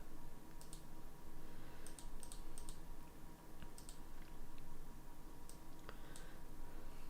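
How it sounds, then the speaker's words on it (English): Clicky keystrokes from a mechanical keyboard come in scattered bursts over a steady, loud background hum, with no talking. "It's that mechanical keyboard, you know."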